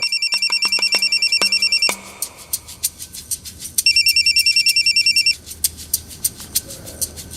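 A telephone rings in bursts of rapid electronic trilling, two long rings separated by quieter pulsing tones, loud and close in a Crime Patrol drama scene.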